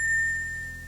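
A single soft chime rings clearly, its bright tones sustaining and slowly fading over about a second, with nothing else heard, signalling a page turn in a read-along of the picture book Funnybones.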